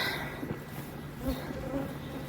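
Honeybees in a frenzy of robbing around their hive after honey extraction, a dense, steady buzz of many insects close by, with no voices.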